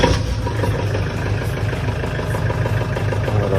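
A Kubota L4508 tractor engine idles with a steady, close, low diesel chug and an even rhythmic beat throughout.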